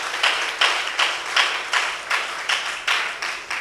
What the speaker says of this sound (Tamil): ஒரு கைத்தட்டல் கொடுங்க பார்க்கலாம்